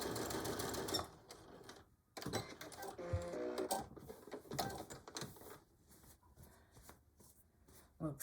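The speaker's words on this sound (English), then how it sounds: "One more back stitch." A home sewing machine back stitching a canvas beach or diaper bag, short runs of quick mechanical stitching broken by pauses and small handling clicks, fairly quiet and close.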